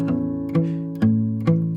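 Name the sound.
guitar thumb chuck with three fingers plucking on beat one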